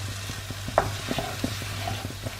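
Double cream cooks down in a pan with a steady low bubbling sizzle and a few soft stirring knocks, heard up close with no talking.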